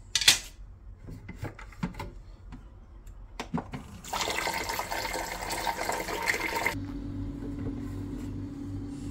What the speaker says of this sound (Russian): Подольем воду.